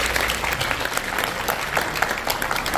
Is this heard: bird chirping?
no